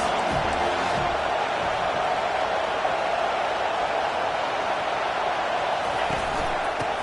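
A football stadium crowd roars steadily as the defense faces the offense, a dense sustained wash of cheering from many voices that stays loud throughout.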